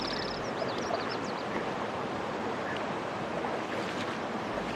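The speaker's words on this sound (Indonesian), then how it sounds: "Aliran sungai seperti ini banyak terdapat di Karangampar." A forest river in Karangampar flows continuously, a steady broadband rush of water at moderate loudness, with a few faint bird chirps early on.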